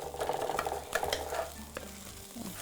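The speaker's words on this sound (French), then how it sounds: "Donc, fait revenir la pâte de tomate." Tomato paste fries and sizzles in a pan while a utensil stirs and scrapes it in several quick strokes. The soft crackling sizzle stays close and quiet, with no talking.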